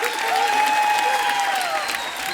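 Studio audience applauding on an Indian comedy talk show set, a dense steady wash of clapping that stays loud and even throughout, with no talk over it.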